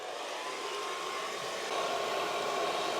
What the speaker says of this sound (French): Je vais prendre le sèche-cheveux.